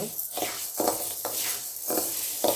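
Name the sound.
dry roasting urad dal in a pan without oil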